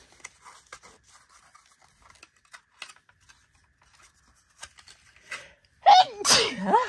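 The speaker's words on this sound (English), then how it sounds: "was trying to keep that sneeze in" Soft crafting rustles and small taps go on quietly. Near the end a person lets out a sudden, loud, close sneeze they had been trying to hold back.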